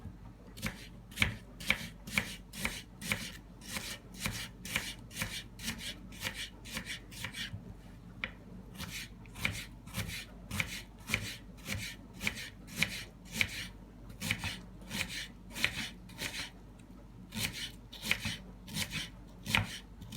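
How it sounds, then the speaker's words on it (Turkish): A single onion being finely chopped with a knife for a potato börek, giving a long run of rapid, even taps on a cutting board, with brief pauses between bursts and no voices. "koyduğumuz bir adet soğanı ince ince kıyalım."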